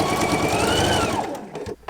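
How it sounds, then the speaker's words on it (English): Close and loud, a sewing machine runs at speed stitching the final seams of quilt star blocks, then slows and stops with a few soft mechanical clicks at the end. "Now we're ready to sew our final 2 seams."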